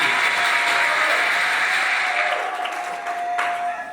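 Wedding guests applauding at a ceremony in Libreville, a dense continuous wash of clapping that holds steady and then slowly thins out, with a faint sustained tone running underneath.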